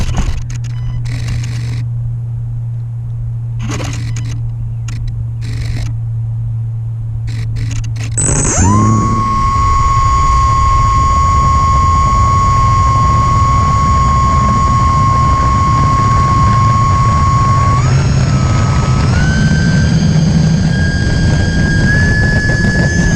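Small E-Flite UMX Turbo Timber RC plane flying on a windy day, its electric motor whining loud and close, steady and then stepping up in pitch, with rushing wind noise underneath.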